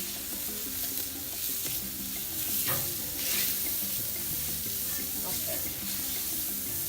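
Eggs seasoned with garlic and salt sizzle steadily on a warm comal, a dense continuous crackling fry with occasional stirring scrapes; a voice speaks briefly.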